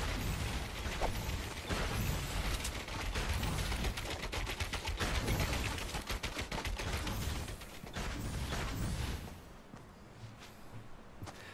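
Rapid gunfire bursts ring out in a Fortnite match, dense overlapping shots and mechanical clatter for about nine seconds before dropping to a quieter tail.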